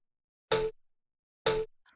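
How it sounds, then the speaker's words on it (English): Two bright metallic bell chimes from Winter Wonder Orianna's recall in League of Legends, evenly spaced about a second apart, each ringing briefly and decaying quickly, clean and alone. "So this is Winter Wonder Orianna's recall. She has this bell sound playing."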